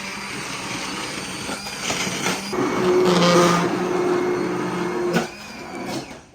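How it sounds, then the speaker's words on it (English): A blender blitzes a tomato and chili arrabbiata sauce, a continuous whirring motor with a rising, churning pitch that builds and then tapers off near the end, close up with no talk. "we're going to blitz the whole thing together"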